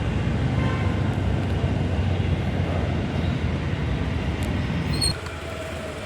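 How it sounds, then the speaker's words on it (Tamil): A train rolls past a level crossing steadily with a continuous rumbling clatter of wheels on track, then the noise suddenly drops as it clears; faint squeaks ring out near the end. "ட்ரெயின் போகுது, கேட் போட்டுக்கிறா."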